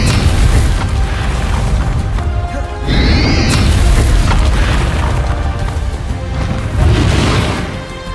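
Confringo spell explosions in the video game Hogwarts Legacy, loud booming blasts in a dense battle mix, with a sharp crackling burst partway through.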